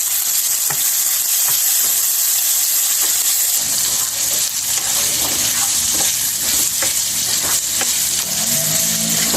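Two tablespoons of ginger garlic paste dropped into hot oil for a prawn dish, hissing and sizzling loudly and continuously, with a stronger burst of frying partway through and occasional stirring taps.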